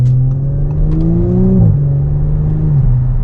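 An Audi S5 fitted with a resonator delete and downpipe revs up close, its engine note climbing, dropping sharply, then settling and sagging again in a loud, throaty burst with no talking.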